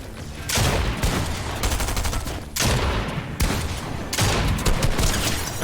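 Heavy gunfire in a first-person shooter game comes in dense, loud rapid volleys, three or four sustained bursts separated by brief dips, with no talk.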